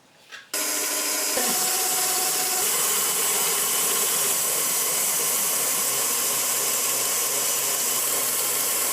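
An electric mixer whipping aquafaba into vegan meringue switches on abruptly and then runs at a steady, loud whir with a faint, continuous grinding hum.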